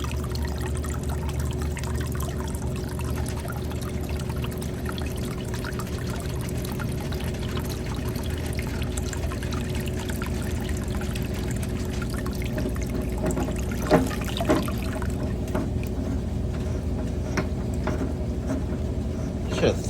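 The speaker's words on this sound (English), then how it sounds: "water heater draining." Steady pouring and trickling water drains continuously from a 50-gallon Rheem electric water heater tank, close by, with a constant low rumble beneath and a few faint clinks.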